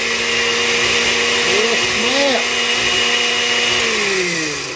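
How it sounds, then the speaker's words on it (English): A margarita maker blender motor whirs loudly and continuously, its pitch wavering and dipping briefly near the end as it churns a frozen drink. "all the ingredients I mentioned are in that margarita maker, and we're gonna get it going here"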